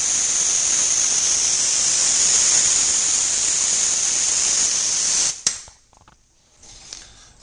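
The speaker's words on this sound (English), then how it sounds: "I'm going to go ahead and spray on the Catalyzed Lacquer." A spray gun lays down a catalyzed lacquer finish in a loud, continuous close hiss lasting about five seconds, then cuts off, leaving a few faint clicks and handling noises.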